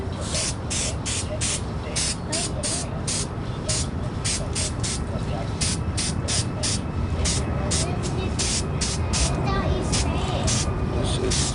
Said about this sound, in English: So I'm just going to spray all the pieces